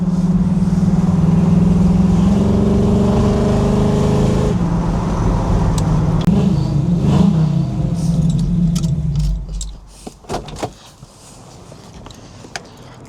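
A restored 1969 Chevrolet Camaro 396 SS with a big block V8 drones steadily and loudly while driving for about nine seconds, then the engine cuts off, leaving sharp clicks and jangling keys.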